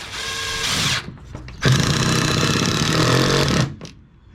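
A power drill drives screws into pressure-treated porch boards in close, loud bursts of whirring: a short run, a pause, then a longer sustained drive that stops abruptly.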